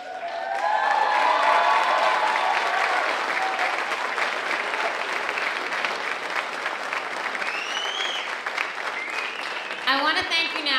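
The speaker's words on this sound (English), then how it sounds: "I want to thank you now for clapping so well and cheering" An audience at a St. Louis Metropolitan Police Department badge ceremony applauds loudly with scattered cheers and whoops, the dense clapping holding for several seconds before tapering as voices rise near the end.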